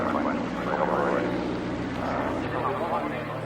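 An airplane flies over a 1996 Spitfire airshow in Southampton, its steady engine drone filling the air throughout while a commentator talks over a public address system.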